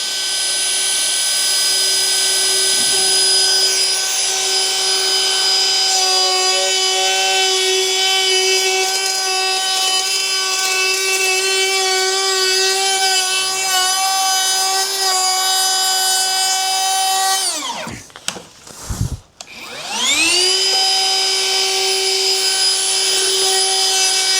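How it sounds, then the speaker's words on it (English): A plunge router cuts through a kitchen worktop with a loud, sustained high-pitched whine and grinding that holds steady for about eighteen seconds, then briefly dips as the motor slows and spins back up. "all I do is start the router, plunge it, hold it in place"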